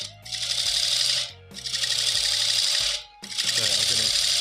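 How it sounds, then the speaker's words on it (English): A wood lathe spins an out-of-balance spalted beech blank, producing a vibrating low hum with three loud, rasping bursts separated by brief lulls, close to the microphone. "You can hear that it's out of balance, that although the lathe is screwed to the floor, there's still a little bit of vibration."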